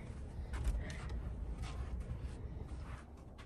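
Doors in an unfamiliar back area being explored give a few faint, drawn-out creaks, quiet and somewhat distant over a low background rumble.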